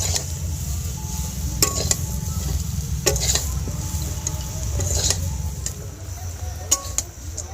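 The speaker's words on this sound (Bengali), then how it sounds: "এবার একটু তেলের সাথে একটু ভেজে নেব।" Tamarind frying in a little oil for a sweet-sour tamarind pickle, with a low steady sizzle under repeated sharp clinks of a utensil against the pan, spread irregularly across the clip.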